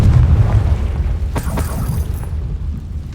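A Confringo fire spell blasts in Hogwarts Legacy, a loud booming explosion with a heavy low rumble at the start, followed by a couple of sharp crackling bursts as the blast decays.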